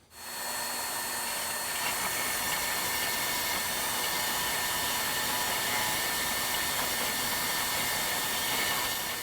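A saw grinds slowly through a hardened steel J-frame revolver cylinder, giving a continuous, loud, even rasp that holds without a break from start to finish.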